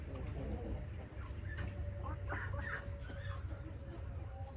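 Chickens, including a white rooster, cluck softly nearby in short scattered bursts over a low background hum, with faint rustling around them.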